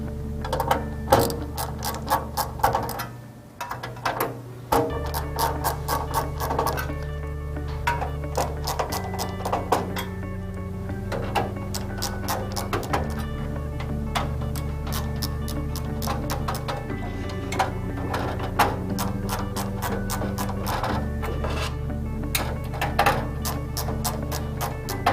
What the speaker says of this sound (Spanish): Vamos a quitar algunos tornillos.